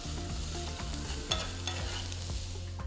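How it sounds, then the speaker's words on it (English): Onion tempering with hing and salt being stirred in a hot pan, a steady quiet sizzle of frying with soft scraping stir strokes, close and without voices. "Give it all a nice mix."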